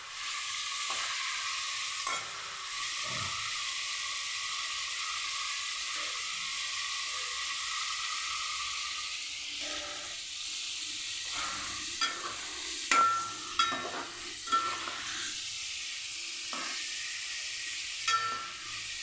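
Brinjal frying in oil for a dry fish and brinjal curry gives a steady soft sizzle, with occasional scrapes and knocks of a spoon stirring the pan, close and moderately quiet.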